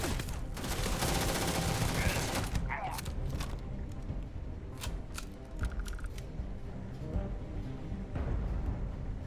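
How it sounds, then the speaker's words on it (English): Machine gun fire in the video game Starfield: dense, continuous bursts of rapid shots with scattered sharp cracks, loud and close over a busy game soundscape, with a voice talking over it at times. "Glad I found this machine gun."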